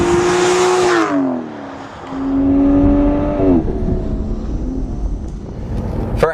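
A 2014 Aston Martin Rapide S launches hard, its engine note rising sharply through the gears with a gearshift dip near one second and another around three and a half seconds. It then settles into a steady road roar, loud and close with no voices.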